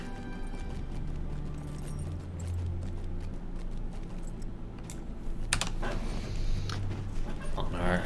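A goat mount's hoofsteps clop steadily in The Lord of the Rings Online, a rapid, even patter of hooves on hard ground running throughout under a low ambient game hum.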